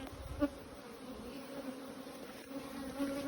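Honeybees buzzing steadily around a beehive, a faint continuous drone with a brief louder pass near the start and another toward the end.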